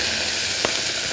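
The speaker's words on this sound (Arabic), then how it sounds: "هنا هحط سمنة بلدي، بسم الله، ثوم مفروم، ملح" Minced garlic and salt frying in hot ghee, a loud, steady sizzle heard close with one brief soft knock, no voices.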